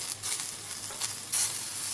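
Tomatoes hit hot spices with chili and turmeric frying in a pan, giving a bright continuous sizzle with a few louder hissing bursts as the mixture is stirred.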